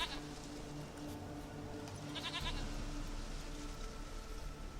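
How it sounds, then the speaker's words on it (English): Goat bleating in The Witcher 3: Wild Hunt, a few wavering bleats over a steady low ambient bed, fairly close and clear, with no talking. "We need blood, a living being. You mean the goat?"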